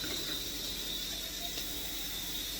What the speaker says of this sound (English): I'm adding about a cup of water to this tomato paste